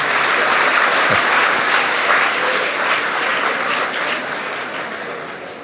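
An audience at an inspirational talk during an education launch event breaks into sustained applause, dense and steady, that slowly tapers off toward the end.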